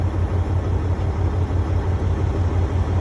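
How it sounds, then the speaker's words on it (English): A truck cab heater blower fan switched on to hot makes a steady whooshing whir over a low, pulsing engine rumble, close and continuous without a break. "Then I'm gonna turn my blower fan on."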